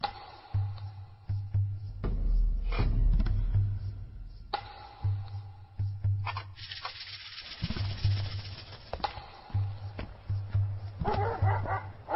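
A dog barks in short bursts several times, close and fairly loud, mixed with rattling and other movement sounds and a few quieter yips between barks.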